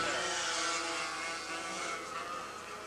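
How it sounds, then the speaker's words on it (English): Two-cycle racing karts at a 1979 Jacksonville pro race buzz past nearby, a continuous high-pitched engine whine holding steady and then easing slightly as they go by. "with a two-cycle engine causing those explosions so frequently"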